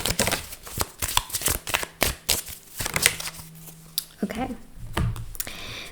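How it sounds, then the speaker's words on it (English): Tarot cards shuffled by hand in a steady run of quick riffling and flicking, close up, with a brief stretch of faint talking partway through. "So I'm just going to continue on with the card shuffling."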